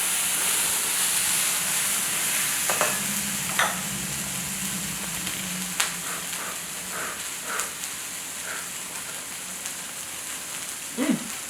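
Potatoes fry in a pan for breakfast tacos, giving a steady sizzling hiss throughout, with scattered scraping stir strokes and a few sharper clinks of the utensil against the pan.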